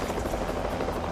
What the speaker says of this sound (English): a United States Park Police rescue chopper, Eagle One, is already on the scene